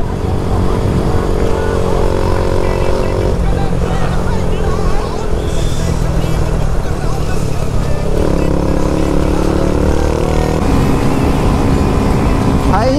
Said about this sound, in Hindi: भाई ये डोमिनार की थर्ड गियर की स्पीड भी नहीं है